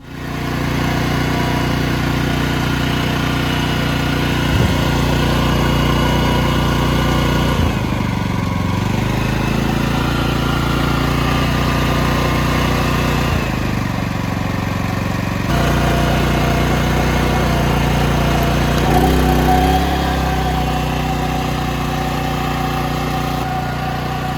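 An Edon PT 4000C inverter generator, rated 3 kW with a 3.3 kW maximum, runs steadily up close with a continuous engine drone, the pitch dipping and recovering briefly a few times.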